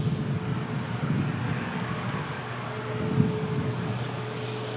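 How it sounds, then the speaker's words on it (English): A Loganair ATR 72-600 turboprop airliner, bound for the Isle of Man, begins its departure roll. It makes a steady, broad rumble with a droning tone that holds at a moderate distance, with no voices. "Loganair ATR 72-600 for the Isle of Man, now lined up for departure"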